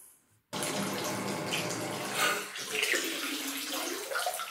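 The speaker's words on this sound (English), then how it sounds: "we got some water in the tub" Water gushing from the tap into a jetted spa bathtub, starting abruptly after a quiet moment and running steadily, close and loud, with splashing swells and no talking.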